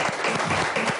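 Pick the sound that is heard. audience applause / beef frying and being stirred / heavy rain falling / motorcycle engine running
audience applause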